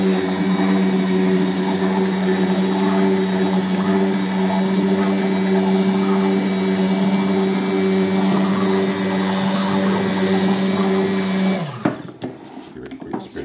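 A stick blender whizzes Carolina reaper buffalo wing sauce in a continuous, loud, even whir lasting about eleven seconds before it cuts out, leaving a few faint clunks.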